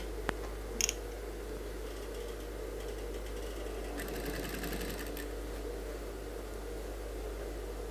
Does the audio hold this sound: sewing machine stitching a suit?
yes